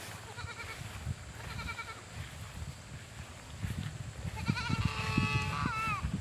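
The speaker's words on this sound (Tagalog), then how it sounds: "Hanapin natin ang mga kambing." Goats on a farm in the Philippines bleat repeatedly, wavering calls at mid-distance that grow louder and more frequent toward the end, with faint rustling and background noise.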